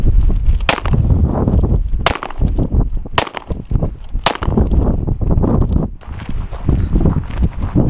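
An FN Five-seveN pistol fires four sharp, loud shots at uneven intervals of about a second or more, over a noisy outdoor background with clatter and shuffling.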